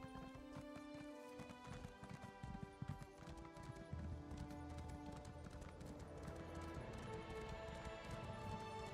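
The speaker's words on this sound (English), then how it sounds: "So, it's time to use the horse." Horse hooves clip-clop at a steady riding pace in the video game Elder Scrolls Online, close and rhythmic over a layer of game music and ambience.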